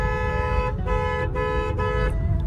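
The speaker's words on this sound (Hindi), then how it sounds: "इधर उधर हॉर्न मैंने चेंज करवाया, उनकी आवाज भी अब एक बार मैं आपको चेकआउट करवा देता हूँ" A loud aftermarket Bosch car horn on a Honda City sounds in several short toots in quick succession over a steady engine rumble, close by.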